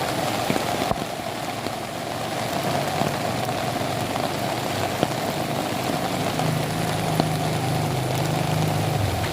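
Heavy rain falls steadily on surfaces during a typhoon, near a bridge over floodwater. The dense wash is broad and constant and runs for the whole stretch, with a faint low engine-like hum joining toward the end.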